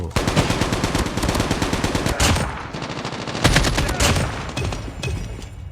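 Rapid automatic gunfire from Call of Duty Mobile in a Gun Game team fight, loud and dense continuous bursts with sharp individual shots throughout, no talk.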